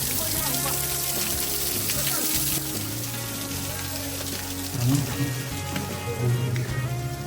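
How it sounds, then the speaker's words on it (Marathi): Monsoon water splashes down inside a rock cave at Siddhagad fort near Murbad, a continuous close hiss and patter that swells briefly in a couple of heavier gushes. "सुंदर असं गुहेचं पाणी या ठिकाणाहून पडतंय"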